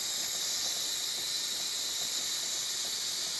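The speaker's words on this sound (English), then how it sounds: "Here you select the steam, turn the dial, and then you get your milk." Steam wand on a Jura Impressa F50 Classic espresso machine frothing milk, a steady loud hiss that holds constant throughout without pause.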